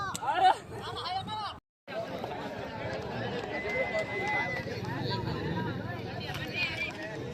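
Horse hooves pounding during a village horse race, rapid galloping thuds amid outdoor crowd noise with people talking throughout.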